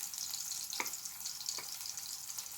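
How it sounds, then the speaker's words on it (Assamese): Kawai fish frying in a pan gives a steady, fairly soft sizzle, with two brief sharper spits or stirs breaking through the hiss; no talking. "এয়া মই মাছখিনি ভাজি লওঁ।"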